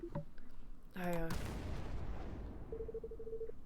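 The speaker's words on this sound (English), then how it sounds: "Are those gunshots?" A gunshot in a video game rings out as one sharp, loud blast with a rumbling, fading tail. A short burst of electronic tones comes just before it, and a steady beeping tone follows.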